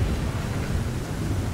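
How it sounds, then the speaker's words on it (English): Thunder from a lightning storm in Elden Ring rumbles as a continuous, loud, deep roar with a hiss like rain. "Why the bad lightning all over?"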